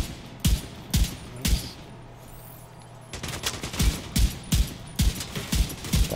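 Rapid bursts of gunfire in the video game The Division 2: sharp, loud shots in uneven clusters, with a short lull in the middle before the shooting picks up again.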